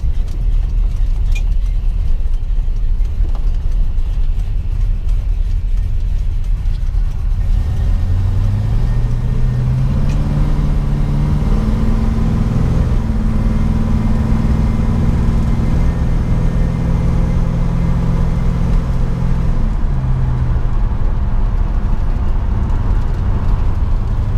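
A 1969 Dodge Charger climbs a very steep hill, its engine droning loud and steady from inside the cabin, with low gear harmonics rising and sliding as it labours upward, then easing near the end; no one speaks.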